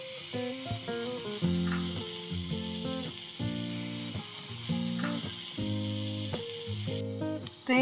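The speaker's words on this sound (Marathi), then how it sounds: "आता आपण याच्यामध्ये डिप करून मासवडी शॅलो फ्राय करणार आहोत" Maswadi shallow frying in hot oil gives a steady sizzle that runs throughout, partly covered by louder melodic background music.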